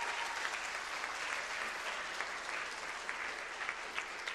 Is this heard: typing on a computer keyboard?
no